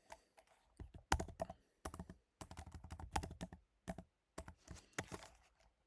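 Typing on a computer keyboard while writing C# code, quick clusters of crisp key clicks in bursts separated by short pauses, close and clear with no talking.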